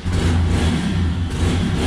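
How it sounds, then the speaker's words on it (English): A motorbike engine runs and revs close by, with a loud, steady, throaty drone that rises slightly at the end. "Bike started."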